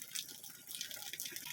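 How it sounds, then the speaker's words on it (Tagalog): Spring water wells up out of the ground at a community potable water source, a soft, steady gurgle and trickle with faint splashing, fairly quiet and continuous with no voices. "Parang spring na yung nangyayari kasi kusa nang lalabas yung tubig sa ibabaw."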